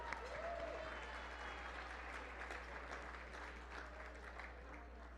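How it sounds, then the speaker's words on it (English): Sustained applause from an arts gala audience, even and continuous, with a low steady hum underneath and a brief murmur of voices early on. "A round of applause for them."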